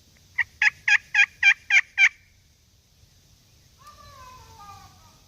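A person imitates a wild turkey gobbler with six quick, loud, rattling gobbles close up, followed by a short pause and then a fainter, warbling call.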